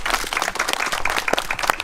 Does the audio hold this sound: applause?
yes